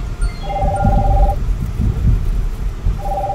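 A cellphone rings with a steady electronic tone that sounds twice, separated by a pause, over a loud rumbling indoor background.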